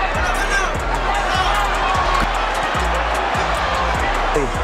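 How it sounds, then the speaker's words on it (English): A large boxing arena crowd roars and cheers in a dense, continuous wall of noise, with a commentator talking over it and scattered louder thumps breaking through. "Listen to the crowd."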